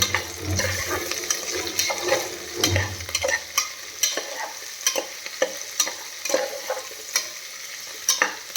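Vegetables for pulao sautéing in a pan, a continuous sizzle punctuated by regular scraping stirs of a spoon, close and fairly loud with no talking.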